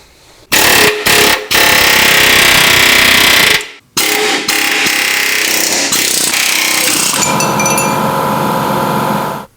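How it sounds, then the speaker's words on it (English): Hammering a chisel to cut a spot-welded bracket off a lifted Toyota frame: loud, harsh metallic banging and grinding, a few sharp hits and then sustained rattling impacts, close up. "Now I can take it the rest of the way off with a chisel."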